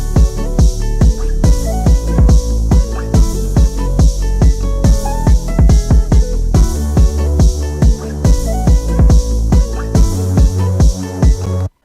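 Beat build-up with open hi-hat, punchy booming kicks and hats in a steady fast rhythm with layered synth notes, loud and dense, no talking.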